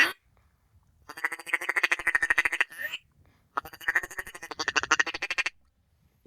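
A hunter's duck call imitating the feeding chatter of ducks during spring hunting in Yakutia, Siberia: two long bursts of rapid, rhythmic quacking pulses, close and fairly loud, separated by a brief pause.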